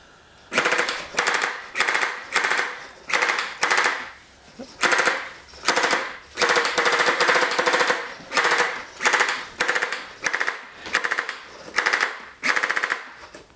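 A laser-cut toy sentinel turret gun fires while tracking, giving loud rapid mechanical bursts of rattling shots in a fast repeating rhythm, close and continuous with brief gaps.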